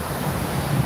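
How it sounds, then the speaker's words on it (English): Steady wind buffeting a microphone on a beach in Cape Verde with low rumbling surf underneath, continuous and fairly loud throughout, no voices. "This is my first time live streaming from a beach and it's kind of windy."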